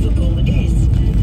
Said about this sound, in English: Now to drive into Liverpool.